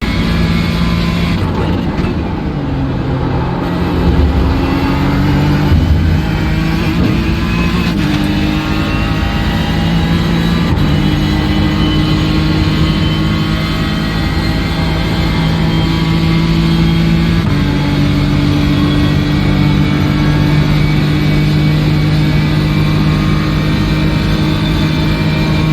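An AMF 21S1 race car runs flat out up through the S's at Watkins Glen, its engine a steady loud drone with rising pitch sweeps through gear changes, continuous and close for the whole stretch with no talking.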